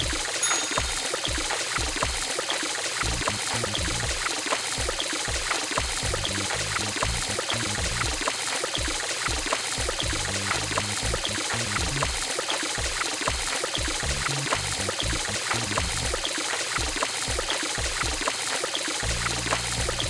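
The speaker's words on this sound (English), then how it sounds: "First, wet the hands with warm water." Warm water runs over hands in a children's hand-washing video game, a continuous pouring, trickling stream broken by rhythmic splashes and short tonal musical accents throughout.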